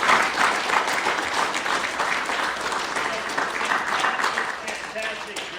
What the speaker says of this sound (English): I'd like to give a thank you and a round of applause for Christopher.